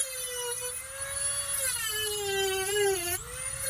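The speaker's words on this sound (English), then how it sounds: "a freaking Dremel would be so easy" A Dremel rotary tool cuts into a C5 Corvette dashboard with a loud, close, continuous high-pitched whine whose pitch dips and rises as the cut loads the bit.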